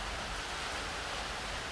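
Rain falls steadily outside in an Australian garden, a dense, even hiss of drops with no gaps, moderately loud throughout the short stretch, with no voices over it.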